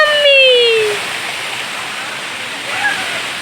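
Rampa waterfall in winter, its rushing water a steady broadband roar that fills the whole stretch, with a couple of brief whistle-like tones early on.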